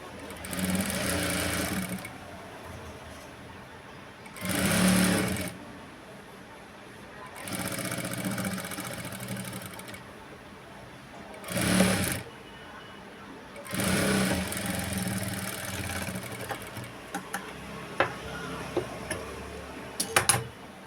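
An electric sewing machine stitches piping onto the waist of a work blouse in several separate bursts of whirring, each a second or two long, with quiet pauses between them.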